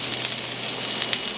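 Bell peppers sizzle loudly and steadily in bacon grease in a pan, a close, dense hiss with a few crackles.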